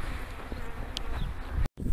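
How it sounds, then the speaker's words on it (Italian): A swarm of honeybees at a hive, being gathered into it during swarming, gives a steady dense buzz throughout, fairly close and continuous, with a brief dropout near the end. "Come vedete ci sono api, perché le ho raccolte un po' alla volta."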